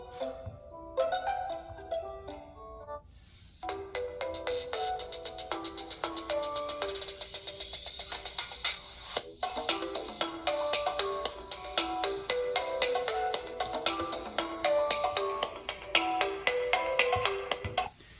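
A ringtone melody plays through the single built-in speaker of a TCL 30z phone, a steady run of bright chiming notes lasting about eighteen seconds, moderately quiet and heard alone without talk.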